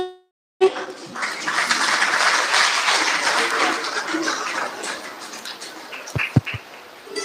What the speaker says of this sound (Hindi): ताली बजाकर इनका स्वागत करें